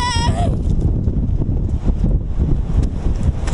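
Strong headwind in the mountains near Makarska, Croatia, buffets the microphone with a constant roaring rush and gusty thumps, loud and unbroken throughout.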